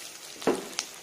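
Chopped onions drop into hot oil with garlic for a white sauce pasta, giving a short sharp sizzle burst followed by a second brief hiss, close and fairly loud against a quiet kitchen.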